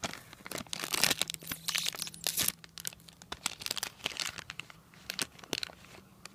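A Topps Minikins minifigures 2-pack wrapper being torn open by hand: close, crisp crinkling and ripping of foil plastic in quick irregular bursts, loud and without speech.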